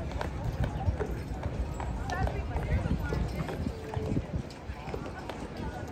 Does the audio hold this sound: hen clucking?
no